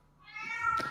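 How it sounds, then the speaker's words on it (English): A house cat gives a single rising meow, close and fairly clear, lasting under a second over a quiet room. "That's my cat."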